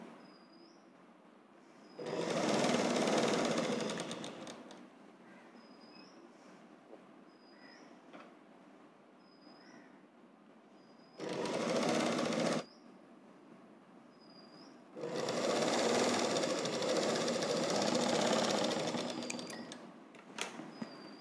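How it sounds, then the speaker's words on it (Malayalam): A sewing machine stitches a double-folded hem on a petticoat in three loud, steady bursts of running, separated by quiet pauses with a faint repeating click. "അപ്പോൾ നമ്മൾ ഇവിടെ ഇനി ഒന്ന് മടക്കി വീണ്ടും ഒന്നും കൂടി മടക്കി ഒറ്റ സ്റ്റിച്ച് ചെയ്തെടുക്കുകയാണ്."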